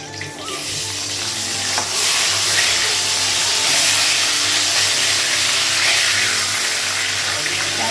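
Fish frying in a pan in a home kitchen, a loud continuous sizzle and spatter that swells after the first couple of seconds and stays strong throughout, with no talking over it.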